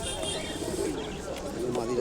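Domestic pigeons coo at a busy bird market, their low, steady calls mixed with crowd murmur and voices talking nearby.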